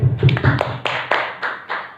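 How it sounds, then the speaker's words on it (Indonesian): Brief round of hand clapping from a small group at a school planning meeting at SMKN 3 Mukomuko, a few loose claps fading into scattered, spaced taps over two seconds. "Tepuk tangan Pak Sony."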